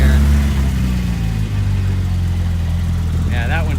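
A Porsche 911 idling at an outdoor cars-and-coffee meet, a steady low engine rumble close by, with people talking faintly near the end.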